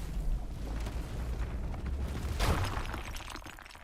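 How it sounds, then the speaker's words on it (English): A rock explosion in Runescape: Dragonwilds rumbles with a dense, low roar throughout, swelling into a louder crumbling burst about two-thirds of the way in before fading. "Rock explosion."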